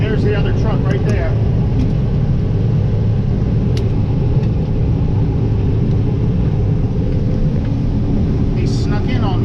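A grain truck rolls in at a farm during corn harvest, its loud, steady diesel engine rumble filling the scene close by, with a few faint clanks and someone talking over it.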